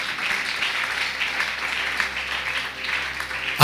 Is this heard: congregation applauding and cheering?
yes